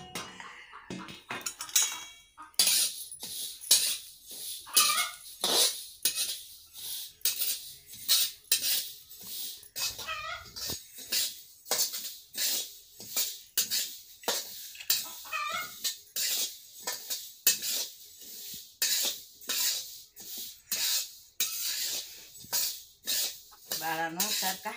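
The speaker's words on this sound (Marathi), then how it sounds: "बाळानो सारखं हलवीत राहायचं" Home-grown sesame seeds roast in a kadhai over a wood-fired stove and are stirred without pause. A spoon scrapes and taps the pan in a quick, steady rhythm, loud and close, and someone talks throughout.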